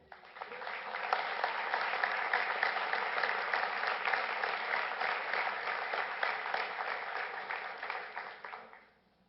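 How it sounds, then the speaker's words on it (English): A large crowd claps steadily for about nine seconds at a school board meeting honoring elementary teachers of the year, the applause holding strong before tapering off at the end. "How about one more round of applause?"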